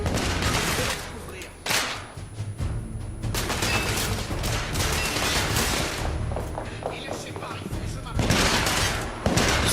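Gunfire from the video game The Order: 1886, dense rapid bursts and heavy booms packed across the whole stretch, loud and near, with a voice partly mixed in.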